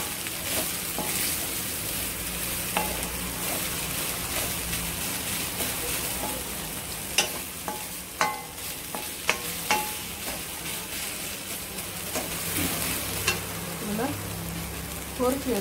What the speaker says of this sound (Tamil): இதில் வந்து நம்ம தேங்காய் பூ சேர்க்கிறோம்.